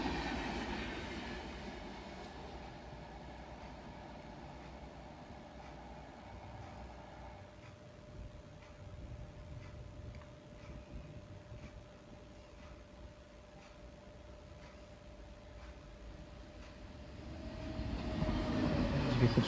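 A Humsafar passenger train passes at a distance as a steady rumble with faint clickety-clack and a thin sustained squeal, building louder near the end.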